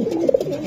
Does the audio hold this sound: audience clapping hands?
no